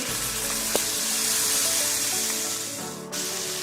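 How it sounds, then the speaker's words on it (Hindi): Chicken for shawarma fries in a hot pan as chili sauce and soy sauce are poured in, producing a loud, continuous close sizzle with a brief sharp clink and a dip near the end. "अब इसमें चिली सॉस ऐड कर देंगे और उसके साथ इसमें सोया सॉस भी ऐड कर देंगे।"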